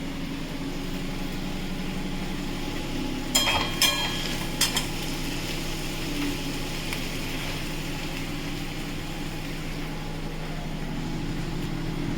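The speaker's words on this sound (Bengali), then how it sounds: "আর একটু ভাজা ভাজা করব" Garlic and potatoes fry in a pan with a constant loud sizzling hiss, broken by a few short clinks of stirring near the middle, and no voices.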